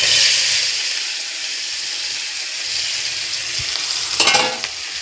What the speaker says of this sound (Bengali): এই তেলের মধ্যে চিংড়ি মাছগুলো হালকা ভেজে নেব।